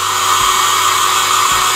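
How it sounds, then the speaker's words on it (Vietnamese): A hair dryer blows close up to soften the double-sided tape on an iPhone X during a speaker repair, a loud steady whooshing hum with a brief dip in motor tone twice, no one talking. "Thì đây mình sẽ dùng cái máy sấy tóc á, mình sấy cho nó mềm đó, để mình sẽ tận dụng lại cái băng dính hai mặt"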